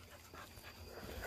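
A dog whimpers and pants quietly over faint background noise, a soft, thin sound with no talking.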